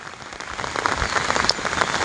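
Rain falling on a water-filled field, a dense steady patter of drops hitting the water surface close by, growing slightly louder toward the end, with no voices.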